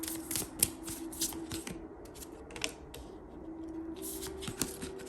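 A Super Lunaris tarot deck is shuffled close by in quick bursts of riffling card slaps, several separate sharp flurries with brief pauses between them over a steady low background hum.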